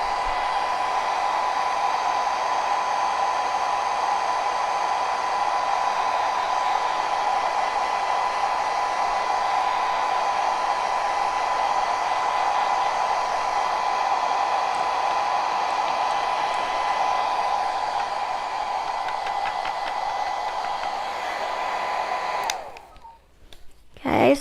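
Loud, steady whoosh of a hair dryer blowing on wet paint on a snowman wreath, running close and unbroken for over twenty seconds before clicking off abruptly.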